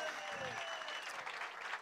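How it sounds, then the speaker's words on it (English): Faint, distant crowd applause at a bass fishing tournament weigh-in, a brief steady patter under a tonal hum and some background voices. "Give him a round of applause"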